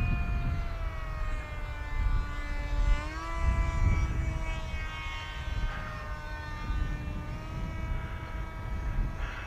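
An AtomRC Dolphin Pro RC plane with elevons and a V-tail drones steadily overhead, its motor whine a continuous harmonic tone that rises and falls slightly in pitch as it carves around, over a rumble of outdoor wind noise.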